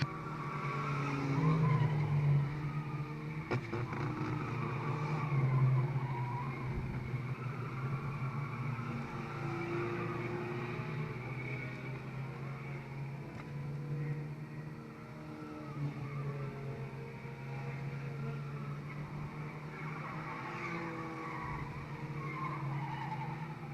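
Race cars lap a speedway on the final lap of a 2002 race, the 89 car leading, their engines forming a steady, continuous roar at moderate distance throughout.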